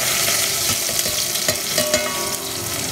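Cow skin frying in a pan and being stirred, a steady dense sizzle with scraping stir strokes and small clatters throughout, close and fairly loud with no talking.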